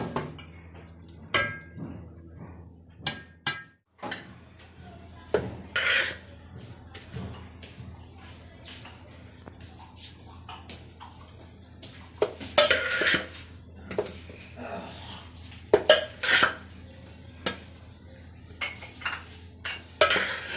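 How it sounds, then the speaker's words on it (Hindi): Spiced sweet rice for shahi mutanjan being served onto a dish with metal utensils, giving irregular clinks, scrapes and taps against the pot and plate, some louder bursts near the end, with brief faint talk. "अब मैं इसको डिश आउट करती हूँ।"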